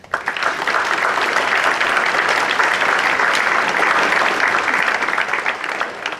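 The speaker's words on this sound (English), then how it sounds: "Give a round of applause, please." An audience at a scholarship awards program breaks into loud, dense applause that starts abruptly and holds steady for several seconds before tapering slightly.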